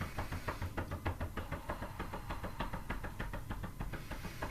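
Hands knocking rhythmically over the navel centre of the body during a qigong exercise, a quiet, steady series of soft dull thumps at a brisk even pace, with no talking.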